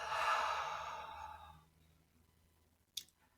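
One slow, audible exhale of a deep breath fades out over about a second and a half, then a brief click follows in near silence.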